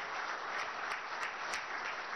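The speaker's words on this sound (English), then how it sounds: "Please, a big round of applause for His Excellency." An audience at a fireside chat gives a round of applause for a distinguished guest, a steady wash of clapping heard from a distance and fairly faint, with no talk over it.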